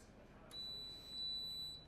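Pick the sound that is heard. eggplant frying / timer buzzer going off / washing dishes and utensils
timer buzzer going off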